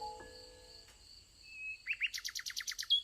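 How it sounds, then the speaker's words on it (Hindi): A small bird in an animated fairy tale breaks into a rapid, bright chirping trill of about a dozen quick notes, preceded by soft chime-like magical tones, clear and close with no talking. "प्यारा पक्षी खूबसूरती से गाना शुरू कर देता"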